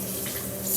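Water poured from a tap while making fluffy slime makes a short, steady splashing stream that swells louder at the end, with no talking.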